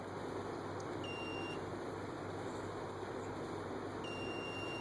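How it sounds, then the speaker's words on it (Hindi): An Arduino buzzer alarm triggered by an ultrasonic distance sensor at about 3 cm, giving two short electronic beeps over a steady background hiss. "आप देख सकते हैं यहाँ पर 3 सेंटीमीटर पर इसको अलार्म को बज़ कर रहा है"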